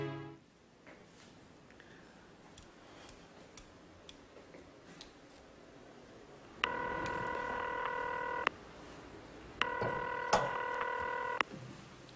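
A telephone is dialed indoors, with faint ticking and clicking at first, then two long stretches of steady multi-tone dialing beeps, the second broken by brief clicks.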